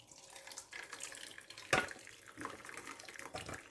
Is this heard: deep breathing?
no